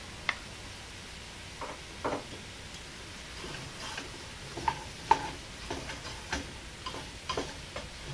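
Spoon stirring tomatoes cooking in a pot for lentil soup, giving scattered light taps and scrapes against the pot over a faint low sizzle, with no talk.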